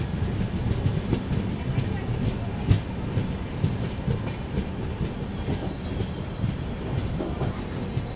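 A superfast express train rumbles steadily along the tracks near Davanagere with continuous rattling and faint wheel squeals, loud and close throughout.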